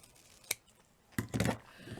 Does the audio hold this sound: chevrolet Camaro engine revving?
no